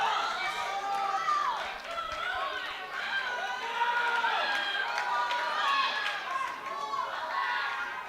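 A crowd at a junior women's powerlifting championship cheers on a deadlift attempt. Loud, sustained shouting and chanting fills the hall while a commentator talks over it.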